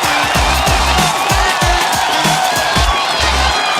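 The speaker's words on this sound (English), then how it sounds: "a little bit more applause." An audience at a closing ceremony claps and cheers loudly and steadily, with a voice speaking over the crowd noise throughout.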